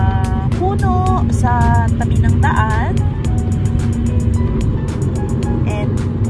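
Steady road and engine rumble from a car cruising on an Australian highway between New South Wales and Queensland, a continuous drone throughout, with short high chirps and squeaks breaking through above it.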